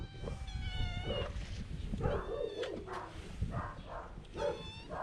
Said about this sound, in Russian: Привет, котики. Боже, сколько вас тут.